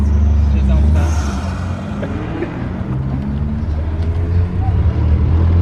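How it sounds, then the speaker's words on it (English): A Honda car revs and pulls away at a car show, a loud continuous engine rumble with a brief surge early on, mixed with crowd noise and people talking nearby. "that Honda's about to take off right now"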